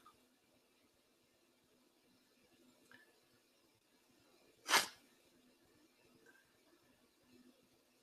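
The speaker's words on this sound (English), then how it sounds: "I got to sneeze again" A person sneezes once, a single sharp loud burst amid otherwise quiet room tone.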